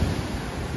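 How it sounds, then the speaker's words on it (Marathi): Sea waves at high tide rolling onto a fully flooded beach, a brief loud low rumble of surf with wind noise throughout and no talk. "तिकडे आल्यावर समजते भरती खूप आहे, अगदी समुद्र किनारा पूर्ण भरून गेलेला आहे"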